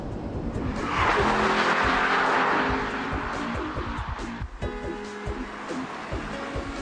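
Porsche 997 sports car engine revving hard and rising in pitch, with a loud continuous roar close by and a brief dip before settling into a steady drone, no talk.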